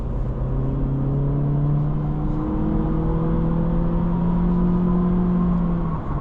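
A 2026 Acura Integra with a CVT accelerating, heard as a steady engine drone and whir whose tones rise smoothly, loud and continuous throughout with no talking.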